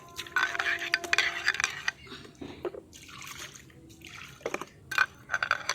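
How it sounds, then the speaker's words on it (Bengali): Water splashes and trickles over an iron tawa griddle being washed, with scattered metallic clinks and scraping between bursts of running water, fairly close and moderately loud. "এখন আমি তোমাদেরকে চাটুটা ধুয়ে দেখাবো কতটা পরিষ্কার হয়ে গেছে।"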